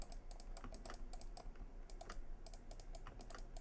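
Steady computer keyboard typing mixed with sharp mouse clicks during Photoshop clone-tool texture editing, close and continuous with irregular bursts of keystrokes and no voices.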